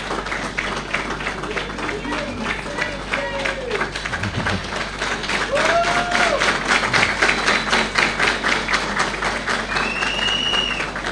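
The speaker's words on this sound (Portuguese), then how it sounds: "Uma salva de palmas bem forte também." A crowd applauds at a party leader's political speech in Mozambique with continuous rapid clapping that swells louder midway, while voices and whistles rise above it.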